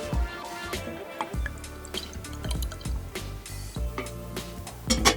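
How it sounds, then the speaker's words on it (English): Traditional Mongolian milk tea poured inside a ger, a steady run of liquid with drips and splashes against a clattering background, close and moderately quiet, with no talk. "I'm gonna pour you traditional Mongolian milk tea"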